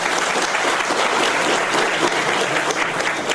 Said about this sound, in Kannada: ತಾವು ದಯವಿಟ್ಟು ಚಪ್ಪಾಳೆ ತಟ್ಟಬೇಕು